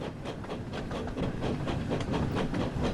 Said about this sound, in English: James was bringing a freight train from the Little Western